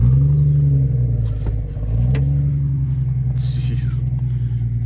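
A Jeep driving on a snowy road, its engine a steady low rumble with a brief dip and swell in revs, heard from inside the cabin while people talk.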